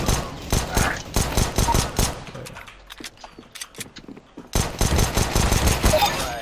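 Rapid bursts of gunfire from the video game CS:GO in an Arms Race and Deathmatch match, loud volleys cut by a quieter lull before the shooting returns.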